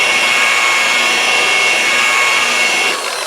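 An orbital sander buffs out swirl marks in body filler, giving a steady, loud, continuous whirring rasp that holds even for several seconds before easing slightly at the end.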